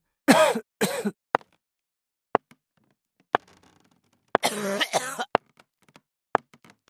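An old woman in a Roblox game coughs in several harsh bursts, with scattered clicks and short throat-clearing sounds in the pauses between.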